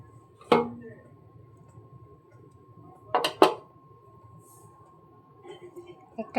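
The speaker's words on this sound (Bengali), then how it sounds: "একটা একটা করে আমি তেলের উপর, গরম তেলে দিয়ে দিচ্ছি বন্ধুরা" Shaped lentil fritters (bora) go one by one into hot oil, giving a sharp splash and clatter followed by two quick ones, with a steady faint hum and quiet between.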